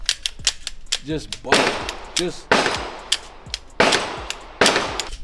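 Pistol slide racked and trigger worked repeatedly, sharp metallic clacks and snaps arriving in irregular bursts, close and loud, with someone speaking briefly between them.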